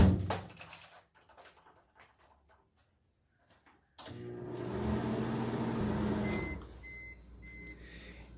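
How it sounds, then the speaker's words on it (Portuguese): A microwave oven hums steadily for a few seconds after a door thump, running to dry a damp soil-cement mix for ecological bricks, a close, even drone that cuts off, with faint clicks before it starts. "1 minuto no micro-ondas."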